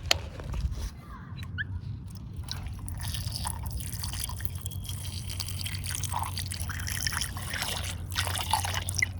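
Water is poured into a container of Lego bricks, giving a continuous close trickle with scattered drips and splashes that grow slightly busier toward the end.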